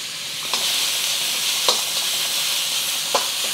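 Onions sizzle steadily in oil in a wok for Malaysian-style fried rice, a loud continuous frying hiss broken by a few sharp stirring scrapes, with no voices.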